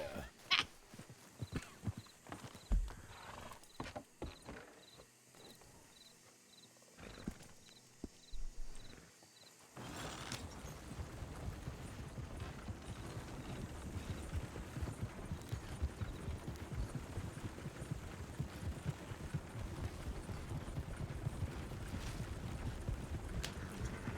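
Rhythmic hoof clip-clops of a trotting horse in the game RedM with game-like ambience, shifting to a dense steady rumble of movement halfway through.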